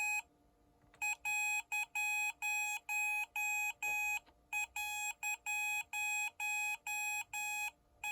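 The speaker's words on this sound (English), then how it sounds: "those were different dots and dash patterns because they're coming from different address locations" A Datong D70 Morse tutor under repair beeps Morse code in a steady high tone, with short and long pulses in quick succession and a few brief pauses, faint and clean.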